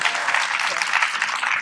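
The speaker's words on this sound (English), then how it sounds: "And now I'll ask her for a formal applause." A room full of people claps steadily, a dense and even wash of applause.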